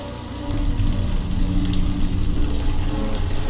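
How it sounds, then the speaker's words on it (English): Steady rain hisses as an even wash in the 2002 video game Platoon, a constant, fairly loud broadband patter with no voices over it. "This haze and rain could be very tricky."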